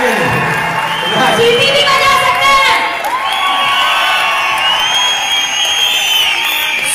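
Award ceremony crowd at a packed Talkatora Stadium event cheering and shouting, with whoops and high voices layered over a steady wash of noise that stays loud throughout.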